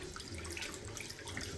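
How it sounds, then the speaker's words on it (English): Water rushing through pipes as a home plumbing system with hot and cold supply is refilled during a small bathroom update, a steady close hiss and trickle with no talking. "We're just literally refilling the system now, so we should now have our cold and our hot water back up and running."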